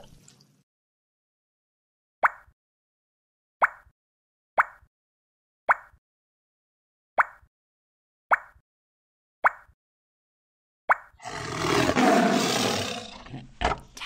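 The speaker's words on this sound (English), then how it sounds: "Tiger." A preschool puzzle video game plays a row of short, evenly spaced plopping clicks as pieces drop into place, followed by a loud cartoon tiger roar that fills the last few seconds.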